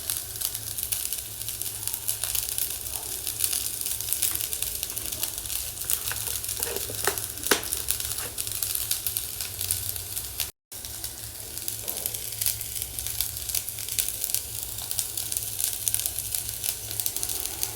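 Rice sizzles steadily in a hot pan as it is stirred for jeera rice, a close, continuous frying hiss with scraping and rustling stirring sounds and no talk.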